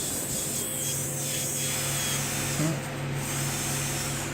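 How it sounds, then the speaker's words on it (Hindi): Power polishing tool running, a continuous whirring drone with steady tonal hum, fairly loud and close, holding level throughout. "आप देख रहे हैं, अब पॉलिशिंग स्टार्ट हो चुकी है।"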